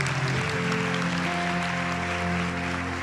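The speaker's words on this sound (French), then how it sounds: "Uma linda salva de palma para esse Deus." Applause from a church congregation acclaiming God during a charismatic service, a sustained, dense clapping that fills the room without a break.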